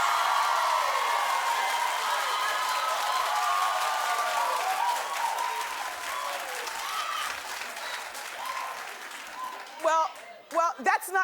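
Studio audience on a daytime talk show clapping in a sustained round of applause with some cheering. It fades gradually, and near the end a host's voice speaks over scattered claps.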